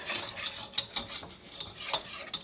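A wire whisk stirs flour into melted butter in a pan for an Alfredo sauce, giving steady scraping and clinking strokes of metal against the pan, close and moderately loud, with no talking.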